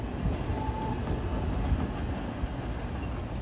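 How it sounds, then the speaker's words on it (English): A long Norfolk Southern intermodal freight train rolls past a road crossing in Lexington, Kentucky, close and loud, a continuous rumble with rhythmic clickety-clack of wheels over rail joints and no voices. "I think that was one of the longest NS intermodals I've ever seen."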